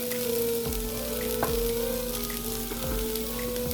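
Minced garlic sizzling with onion in a pan, a soft continuous frying hiss over a steady hum, with a few light utensil taps.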